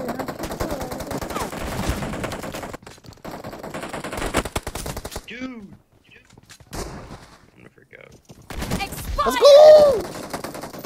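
Bursts of shotgun fire from a PUBG Mobile match crack out in clusters, a rapid run early on and more blasts after a quiet gap, with excited voices calling out over the shooting.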